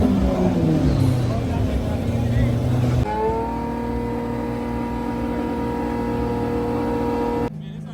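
A loud BMW G80 revs and idles at a crowded car meet, its engine note dropping and then holding a steady rumble close by, with people talking over it.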